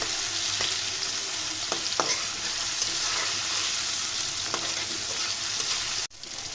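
Tomato and raw onion fry in a pan with a steady, loud sizzle, broken by a few faint scrapes of stirring, before the hiss drops off abruptly near the end.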